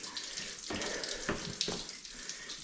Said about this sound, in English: You can hear a river in the distance